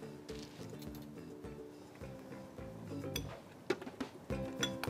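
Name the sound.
spoon clinking while adding mangoes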